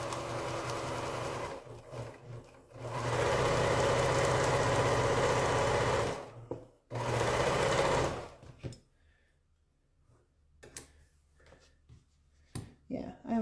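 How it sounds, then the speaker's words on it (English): A quilting sewing machine runs in steady bursts of stitching, loud and close, with short pauses between runs and quieter clicks and handling noises after it stops; the machine may be tangling its bobbin thread. "My machine just made a weird noise."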